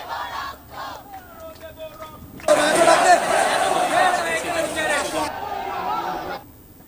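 Medical students on a protest march fill the air with loud, continuous crowd chanting and shouting that erupts suddenly after quieter talk and holds for several seconds before cutting off.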